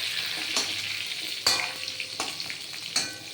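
Pointed gourd and spices fry in a pan with a steady sizzle, broken by several sharp scrapes and clinks as pieces are stirred and turned, close and moderately loud with no voices.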